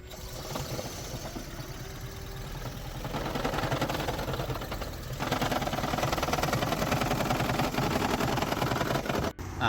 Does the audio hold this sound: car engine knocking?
yes